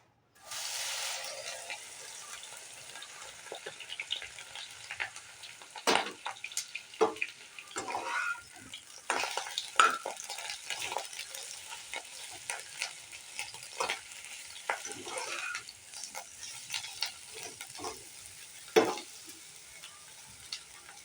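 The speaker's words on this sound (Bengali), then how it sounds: "এবার বেগুনগুলো ভেজে নেব" Eggplant pieces fry in a pan with a steady, fairly quiet sizzle, broken by frequent sharp clinks and scrapes from stirring throughout.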